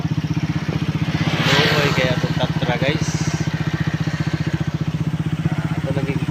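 A Honda TMX 155 motorcycle engine idles close by with a steady, rapid thumping pulse that runs the whole time, while someone talks over it.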